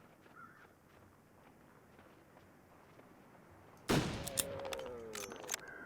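A single rifle shot fired at an animal in the survival video game The Long Dark cracks out loud and sudden after several seconds of faint, quiet ambience, followed by a ringing tail and a few sharper clattering hits.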